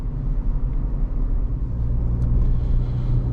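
A 2024 Chevy Colorado ZR2 with a four-cylinder engine drives along a road. Its engine gives a steady low rumble, moderately loud and continuous, with no talk over it.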